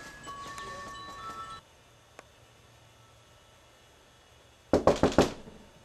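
After a stretch of near silence, a rapid run of about four loud, close knocks hits a door, following a low hum and one faint tap earlier.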